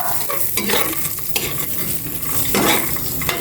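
Garlic fries in a pan with a continuous bright sizzle, broken by scraping stirs and a few clinks of a utensil against the pan.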